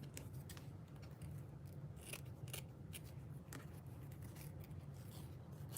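Scissors snip through craft hair for a handmade gnome, giving a few soft, quiet cuts at irregular intervals over a steady low background hum.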